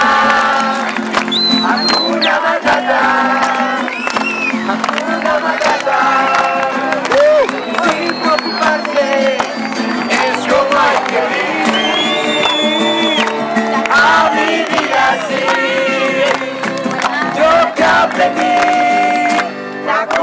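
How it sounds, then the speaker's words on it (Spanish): An audience at a Disney live show applauds and cheers, loud sustained clapping mixed with whoops and crowd shouts, while music and voices carry on over the noise. "Aplausos."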